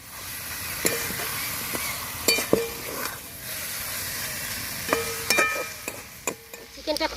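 Country chicken sautés with a few spices in a lightly oiled pan for a thin curry, a low continuous sizzle broken by repeated clinks and scrapes of a spatula stirring, close up.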